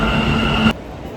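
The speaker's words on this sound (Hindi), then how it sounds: "मेट्रो आ चुकी है, आप देख ही पा रहे होंगे।" A metro train at a station gives a steady mechanical hum with a faint whine that cuts off abruptly partway through the brief sound, loud and close.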